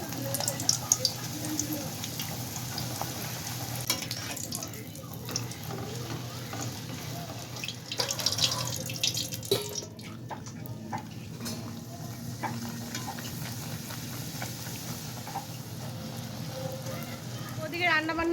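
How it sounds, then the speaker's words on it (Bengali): Luchi frying in hot oil in a home kitchen, a continuous crackling sizzle with occasional utensil clinks and scraping, while someone talks over it. "ওদিকে মা ওদিকে লুচি বেলছে, আমি চটপট গিয়ে ভেজে ফেলি"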